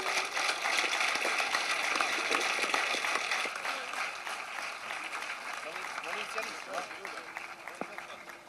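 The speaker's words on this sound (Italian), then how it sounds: "quindi fai un applauso per Pietro che non c'è preso" Audience applauding at a school concert of Ogliastra tenores singers, a dense clapping wash that stays loud and then eases slightly over several seconds, with voices mixed in.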